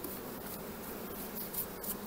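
Honey bees move through an open hive while the beekeeper drives them downward, producing a close, even, low buzzing hum that holds steady across the short stretch.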